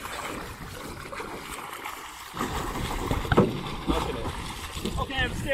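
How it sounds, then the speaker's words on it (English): A canoe on a wilderness lake is rocked from side to side, water sloshing and splashing against the hull in uneven bursts that grow stronger partway through, with voices talking nearby throughout. "Shake the canoe. Yeah, shake the boat."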